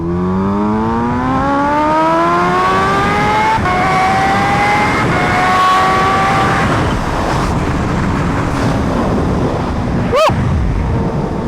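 A Kawasaki Ninja H2 motorcycle accelerates hard, its engine note climbing steadily through the gears under heavy wind rush, with a sharp mechanical transient near the end.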